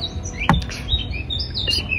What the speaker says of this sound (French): Il y a vraiment des oiseaux qui se sont en forme en ce moment.